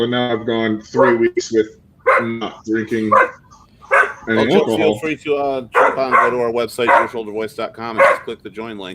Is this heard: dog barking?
yes